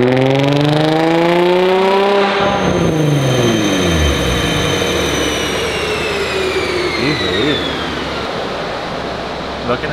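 A car engine on a Dynojet dynamometer revs up in one loud sweep from about 2,000 to 4,000 rpm, its harmonics climbing steadily with a dip and surge partway through, then holding a roaring high-rpm drone to the end.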